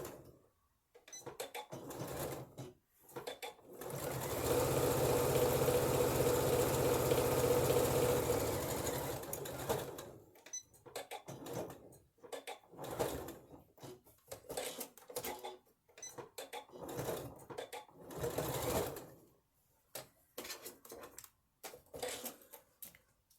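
A sewing machine runs steadily for about five seconds while stitching a seam 3/8 inch from an earlier line of stitches, its motor loud and even, followed by short bursts of stitching and handling noise.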